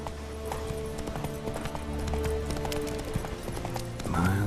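Geralt's horse Roach trots through The Witcher 3 with steady, even clip-clop hoofbeats over ambient game music, and a brief whinny-like sound rises near the end.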